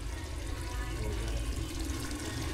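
Milky Mist fresh cream poured into a home-cooked hotel-style egg biryani, a soft steady liquid wash with no clear splashes, faint and continuous throughout.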